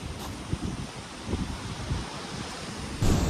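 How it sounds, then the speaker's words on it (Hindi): Rushing water from a mountain waterfall and stream near a wooden bridge, a steady broadband roar that swells louder near the end, with no voices. "झरने की रफ्तार देखो भाई"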